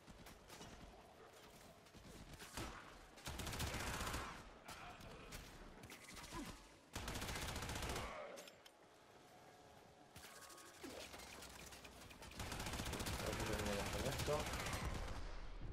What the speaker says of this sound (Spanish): La ametralladora.